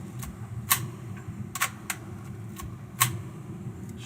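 A Leica film camera's shutter fires several times, sharp isolated clicks spaced irregularly over a quiet room hum.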